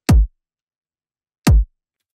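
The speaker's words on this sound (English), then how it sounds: "Kick number one sounds like this." Two beefy drum and bass kick drum samples from an FL Studio session, each a short, punchy, low-heavy thump. The hits land about a second and a half apart with silence between them.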